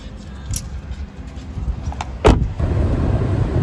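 A car drives along a road, heard from inside as a steady low rumble of road and engine noise, with a few sharp clicks and a brief knock partway through.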